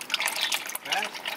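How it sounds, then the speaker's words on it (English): Fresh engine oil gushes quickly out of a fully built turbo Honda Civic engine, making a close, splashy pouring sound like running water, with a brief gap partway through. "Damn, this fucking oil is coming out crazy."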